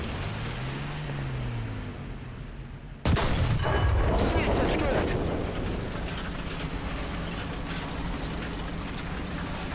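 A tank cannon fires at an IS-2 in War Thunder, one sudden loud blast breaking into a quiet rumbling engine bed, followed by a long ringing, rumbling decay.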